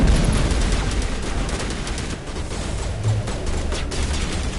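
Continuous weapon fire in the video game Mass Effect, dense overlapping shots and bursts that stay loud and busy from start to finish with no talking.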